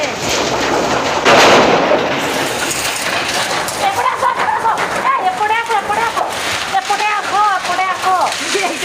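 Heavy rain storm pounding outside a shop, a loud continuous roar of downpour with bursts of gusting noise, while someone talks over it.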